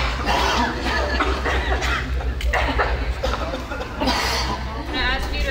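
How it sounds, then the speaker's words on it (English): A person coughs into their elbow three times during a 2020 health screening and swab test, the short coughs partly buried under ongoing talk and background chatter. "cough into your elbow three times."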